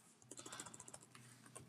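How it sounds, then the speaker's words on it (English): Quick bursts of typing on a computer keyboard, faint close key clicks tapping in rapid irregular rhythm for a couple of seconds. "I'm going to type in author"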